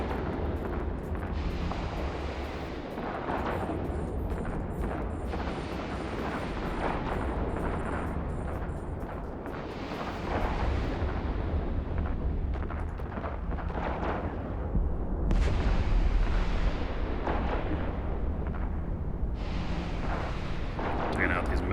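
Weapon fire and explosions hit missile batteries in the space game EVE Online, a steady rumbling barrage of booms and blasts that grows louder toward the end, with people talking over it.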